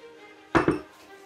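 Metal utensil scraping and clanking in a pan while lamb is stirred with melted butter, two quick close knocks in a row, then quiet.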